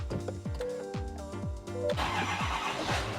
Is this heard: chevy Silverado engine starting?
yes